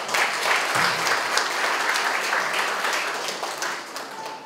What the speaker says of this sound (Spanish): Asimismo lo recibimos con fuertes aplausos.